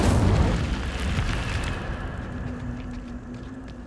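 An Incendio fire spell cast in Hogwarts Legacy, a booming whoosh of flame that starts loud and rumbling, then slowly fades into a lingering crackle and faint hum.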